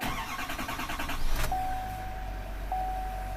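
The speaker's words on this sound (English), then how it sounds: "you can go ahead and crank it until it starts" A 2021 Chevy Silverado 2500HD Duramax diesel cranks with a rapid rhythmic churn for about a second and a half, catches, then settles into a low steady idle while a thin electronic chime tone rings above it.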